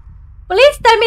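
Two drawn-out, tonal cat meows in the horror game Layers of Fear, close and fairly loud, each rising and then falling, with a brief gap between them and near silence before.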